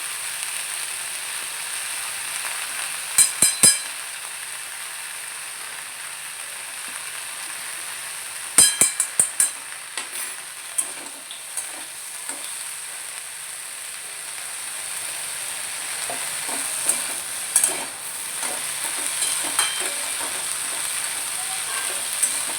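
Drumstick flowers sauté in mustard oil, a steady low sizzle under sharp clattering spoon strikes and scrapes that come in small bursts, close and moderately loud, with no talking.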